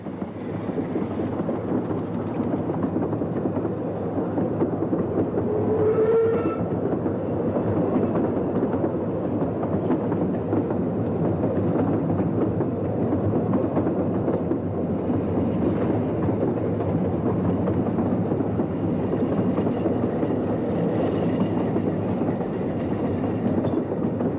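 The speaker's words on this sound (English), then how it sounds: "As Linda and Blanche returned with their long train later in the morning" Two Ffestiniog Railway steam locomotives, Linda and Blanche, haul a long train through wet, deteriorating weather in Wales, a steady loud rumble of wheels and wagons rolling continuously with wind noise over the whole stretch.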